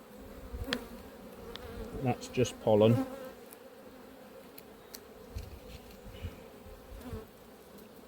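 Honey bees at an apiary drone in a steady, close buzz from grumpy bees of a second colony that have settled into a nest, with a person briefly speaking over the humming.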